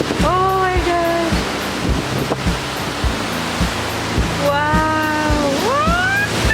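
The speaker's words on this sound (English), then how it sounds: "It's really windy." Strong gusting wind from Tropical Storm Sally roars loudly and continuously at close range, with excited voices crying out over it.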